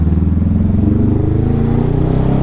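A 2019 Honda Rebel 500 motorcycle's exhaust drones loud and steady while riding in traffic, with a close, even engine pulse and no talking.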